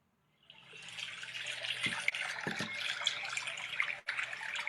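Water flows steadily from a tap in a continuous, even splashing rush for a calming meditation, close and moderately loud with a few low knocks partway through and no speech.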